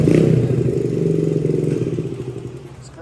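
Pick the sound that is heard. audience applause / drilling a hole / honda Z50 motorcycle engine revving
honda Z50 motorcycle engine revving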